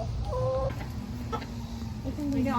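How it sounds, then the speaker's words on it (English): Chickens cluck in short, repeated bursts close by on a small farm, over steady low outdoor background noise. "I'm still leaning towards rooster, but every now and then Pat will do something and I'm like, no, that's a hen, totally a hen"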